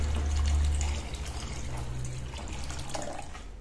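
Hot water poured into a pot of lentil soup, giving a steady, close splashing stream of liquid for a few seconds with no talk.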